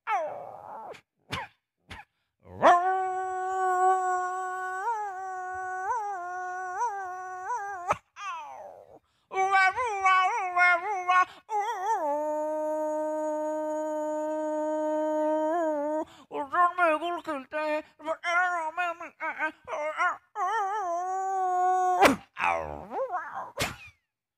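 A voice mimics a puppy howling, with long wavering tonal notes that rise and fall, broken by short pauses and a few sharp knocks.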